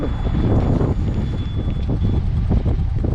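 Heavy wind buffets the microphone on an ATV ride up to the Dikmen plateau summit, with constant low rumbling roar and gusty bursts, loud and close throughout, no voices.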